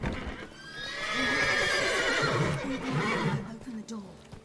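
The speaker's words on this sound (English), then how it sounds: "Gotta calm all the horses before they wake the guards." Horses neigh in Witcher 3, with several whinnies rising and falling over about three seconds, mixed with hoof clip-clops and speech, close and fairly loud.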